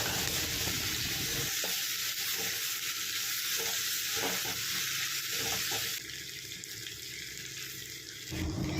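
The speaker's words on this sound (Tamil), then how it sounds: "அது கூட நறுக்கி வச்சுருக்கிற தக்காளியை சேர்த்து நல்லா மைய வதக்கி எடுத்துக்கணும்" Tomatoes sizzle and crackle in a hot pan with oil while being stirred, with scraping strokes at irregular intervals, close and steady.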